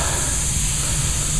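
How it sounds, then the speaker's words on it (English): Steady, loud hiss of compressed air escaping from a leak at a threaded fitting under a cover on a Craftsman 1.5 hp 3-gallon air compressor, continuous and unbroken with a low mechanical hum beneath. "I think I got another leak too, just when I put this cover on."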